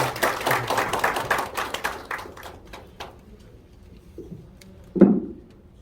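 Guests at a March 1st Movement anniversary ceremony and peace medal award in a Gangnam hotel hall welcome a speaker with a burst of applause that fades out over a few seconds, followed by a single louder knock near the end.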